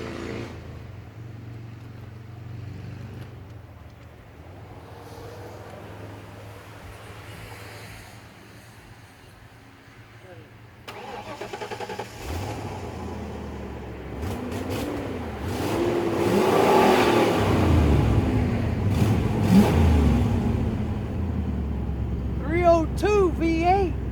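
A big V8 engine in a 1997 Ford Explorer turns over and catches, then revs up loudly in surges before settling, close by, with voices faintly in the background.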